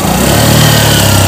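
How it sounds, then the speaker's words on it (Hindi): A motorcycle engine running steadily close by, a low continuous rumble with a mid-pitched drone and no pauses. "अब मेरी बाइक स्टार्ट"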